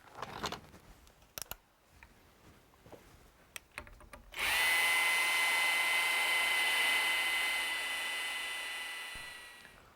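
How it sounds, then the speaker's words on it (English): A power tool trims and sands a log mantle: some scattered knocks and handling clatter come first, then a loud, sustained high-pitched whine starts abruptly and runs to the end, fading slightly toward the close. "trim the ends of it, cut it to length, and get it all sanded"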